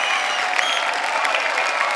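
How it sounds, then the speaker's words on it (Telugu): An audience gives a burst of applause for child singers at a stage music event, a continuous wash of clapping with faint crowd noise, fairly loud and even across the moment. "అండ్ పిల్లలకి గట్టిగా ఒక్కసారి చప్పట్లు"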